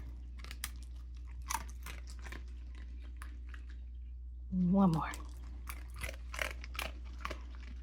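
Sharp, irregular crunching of a dog chewing a dried liver treat, close by, with a short spoken phrase between bites.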